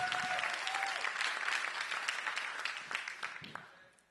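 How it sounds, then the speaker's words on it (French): A church congregation breaks into sustained applause, dense clapping filling the room for about three seconds before thinning out and fading toward the end. "Il faut s'applaudir."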